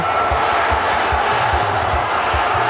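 A packed basketball arena crowd roars during a regional pro league game between Valenzuela and Batangas City, a loud continuous wall of cheering with rhythmic thumps beneath, sustained throughout.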